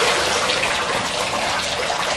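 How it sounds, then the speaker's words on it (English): A 40-watt submersible pump runs inside a water container, giving a loud, steady rush and splash of churning water with no break. "This submersible pump is 40 watts, and I am putting this inside this water container"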